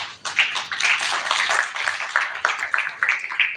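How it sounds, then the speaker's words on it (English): An audience at a formal event bursts into close, lively clapping that stays busy and even for several seconds, with individual claps audible in the crowd. "round of applause for yourself"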